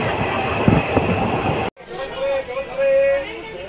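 The Digha–Satragachi special passenger train runs on rails with a steady rumble and clatter, then drops into a quieter, muffled ride with tonal hums.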